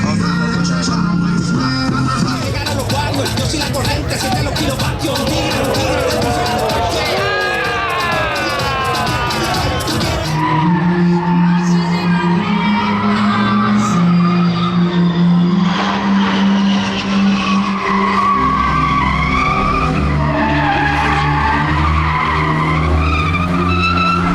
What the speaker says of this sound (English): The burnout pit's right here.